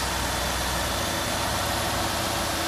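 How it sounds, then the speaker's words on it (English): A 2006 Buick Lucerne's Northstar V8 runs steadily at idle, a continuous close engine drone with a low rumble and no talking. "Good running engine, plenty of power."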